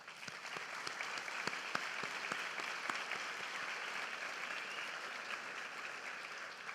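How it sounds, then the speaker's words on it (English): Graduation audience at a medical undergraduate pledge ceremony gives a steady round of applause, many hands clapping evenly throughout, heard from a distance. "Let's give another round of applause."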